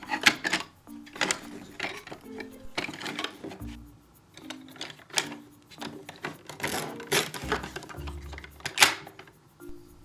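Pretend-play toy cheese being sliced with a toy knife, producing a series of soft, close rubbing and scraping strokes, each followed by light plastic clicks and taps at an irregular pace.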